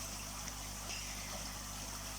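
Water trickles steadily into a garden pond being topped up, a soft continuous wash of running water heard alone at low level with no talk.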